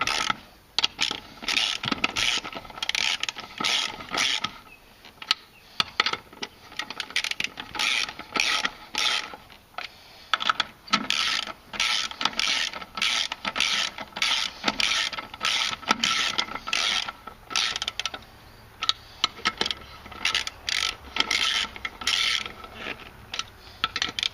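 Hand ratchet tightening the wheel nuts on a 2004 Polaris Sportsman 500 ATV with new spacers and rims, a close, loud string of rapid clicking bursts with short pauses between strokes.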